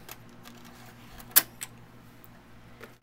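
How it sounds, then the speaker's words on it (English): A floppy disk slides into the drive of an Akai MPC 2000 sampler, giving one sharp close click followed by a softer second clack, with quiet background hum and no talk. "So insert a disk"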